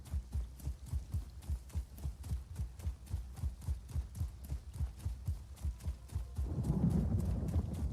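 A horse mount's hooves pound in a steady, rapid galloping rhythm in Elder Scrolls Online, loud and close, with a low rumble swelling near the end.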